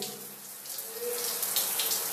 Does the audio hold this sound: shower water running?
yes